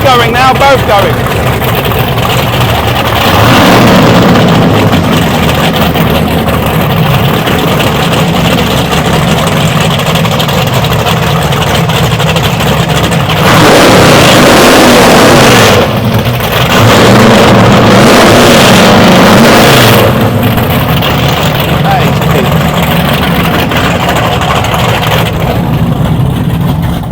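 Twin boat engines idle and run steadily together, a continuous low rumble and drone throughout, with people talking over the engine noise.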